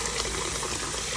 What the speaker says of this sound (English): Alright, so we are gonna wash our rice.